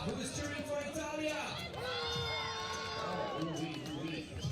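A crowd at a 3x3 basketball game cheers and shouts for Italy, with a dense, sustained roar of voices and whistling throughout.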